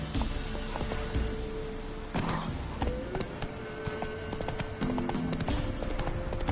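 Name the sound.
horse galloping in video game The Witcher 3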